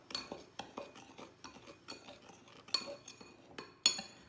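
Pecans being tossed with cinnamon and sugar in a bowl, giving light irregular clinks and scrapes of a utensil against the dish, faint and close.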